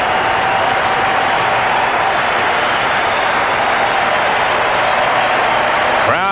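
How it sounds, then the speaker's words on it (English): A baseball crowd on its feet in the Kingdome during the 1995 ALDS Game 5 between the Yankees and Mariners, a loud continuous roar of cheering and applause filling the dome throughout. "Crowd on its feet here in the Kingdome."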